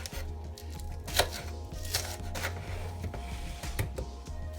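Knife cutting garlic into small pieces on a board, a series of soft, irregular chops close by over a low steady hum, with no voices.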